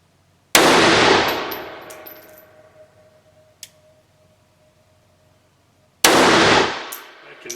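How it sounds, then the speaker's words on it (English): The magazine drops from an RIA Baby Rock 1911 A1 .380 pistol with a sharp metallic clack and a ringing decay, close and loud, followed by a second clack several seconds later. "Bump the magazine release."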